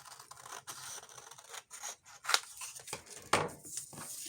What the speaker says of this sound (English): cut this one in half real quick